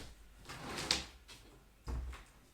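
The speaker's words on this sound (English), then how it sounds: "I'm just going to close my door" An indoor room door swings shut, with a soft scrape and then a muffled thud as it closes, close by and without talk.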